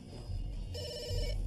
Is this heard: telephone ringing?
yes